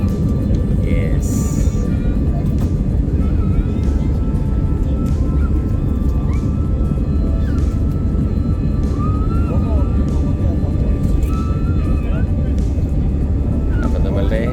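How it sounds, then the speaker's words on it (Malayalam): An Indian Express passenger jet on a Delhi to Srinagar flight rolls down the runway for takeoff, with a loud, steady engine roar and rumble heard from inside the cabin throughout. "നമ്മൾ റൺവേ കയറി മൂവായി ടേക്ക് ഓഫ്"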